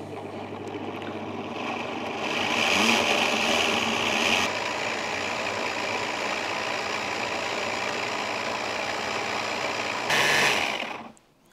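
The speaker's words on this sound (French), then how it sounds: "Je transfère tout ça dans mon blender. Et je n'ai plus qu'à mixer." A blender purees a tomato and bacon jam, its motor a steady, loud, close whir with a brief higher surge near the start and again before it cuts off at the end; no talking.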